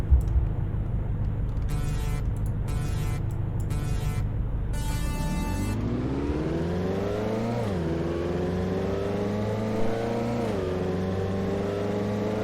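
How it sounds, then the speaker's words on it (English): Reliant Robin engine in the video game Car Dealership Tycoon, idling with brief revs, then a long steady acceleration with rising pitch and gear shifts, loud and alone with no talk. "we're gonna test this and see how good this Reliant Robin is. So yeah. Anyway, listen to the sound of this thing."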